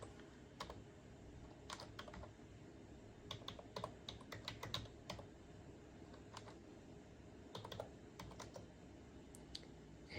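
Typing on a computer keyboard, close by: irregular bursts of light, crisp key clicks in quick runs with short pauses between them, quiet and alone.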